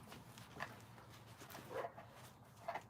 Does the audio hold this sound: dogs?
yes